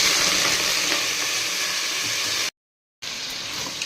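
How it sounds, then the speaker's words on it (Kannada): Chicken fries with crushed onion and garlic in a pot over a gas flame, giving a loud, dense, continuous sizzle close by that cuts out briefly before resuming. "ಎಲ್ಲ ಚೆಂದಾಗೆ ಫ್ರೈ ಮಾಡ್ತಾಯಿದ್ದೀನಿ"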